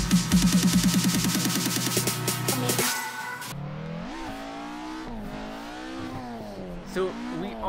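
Street-style car in the Clutch Kickers racing game: a loud engine revs hard in rapid rising pulses for about three seconds, then cuts away to a lower, wavering engine drone with a few swells, continuing steadily to the end.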